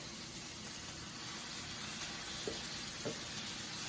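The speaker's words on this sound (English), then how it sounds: "I'm going to be putting my shrimp now to cook" Shrimp sizzling in a hot pan with green seasoning, a steady close frying hiss with a couple of soft stirring knocks, no voices.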